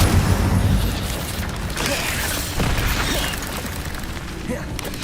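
Incendio fire spell cast in a Harry Potter video game, a whooshing burst with crackling, mechanical clatter over a steady noisy bed, and a few loud impacts spread across the few seconds.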